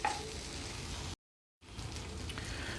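Tomatoes frying in a pan for tomato mint chutney, a steady close hiss and sizzle that cuts out for a moment before resuming.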